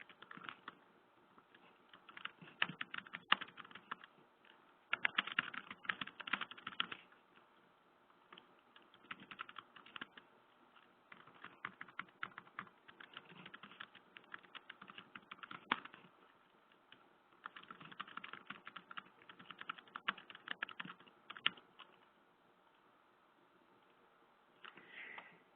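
Fingers type on a computer keyboard in irregular bursts of quick, light clicks separated by short pauses, close and quiet.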